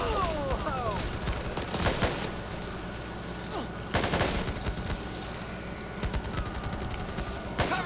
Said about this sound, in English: If you listen, you can hear gunfire from a distance with other survivors